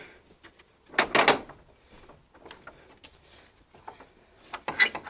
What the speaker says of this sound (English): the cool thing about these doors is like you can open the top